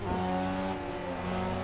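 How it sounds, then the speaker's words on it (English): In a Gran Turismo race, with an R32 nearby, car engines hold a loud, steady droning tone close at hand, with fluttering texture over it and no talking. "You can hear turbo chatter everywhere"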